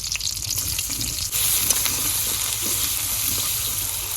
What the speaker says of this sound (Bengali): এই পটল তরকারি দিয়ে চিংড়ি মাছ দিয়ে বয় দিই, চিংড়ি মাছ দিয়ে দিলাম